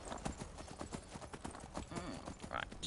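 Horse hooves clip-clop in a steady trotting rhythm in the video game Skyrim, under game background sound and some faint voice.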